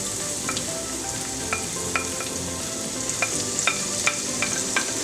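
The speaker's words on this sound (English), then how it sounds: "Then to our oil, we're going to add some onions" Onions sautéing in oil, a steady close sizzle broken by regular scraping clicks of a utensil stirring the pan.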